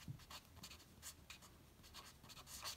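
A pen writes by hand on paper, jotting notes for an operating profit calculation. Soft, faint scratchy strokes come in uneven short bursts over a quiet background.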